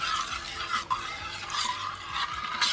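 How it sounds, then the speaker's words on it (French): A vegan dessert mixture stirred in a pan over low heat, a figure-eight motion giving soft repeated scraping swishes against the pan bottom, close and fairly steady. "Et on remue en 8, comme vous feriez une crème anglaise."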